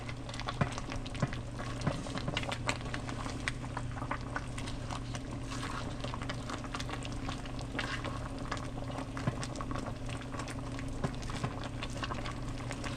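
Jamaican-style stew peas with oxtail, stew beef and chicken foot simmering in a pot, a steady bubbling boil with small pops and crackles, close and fairly quiet, unbroken with no talking.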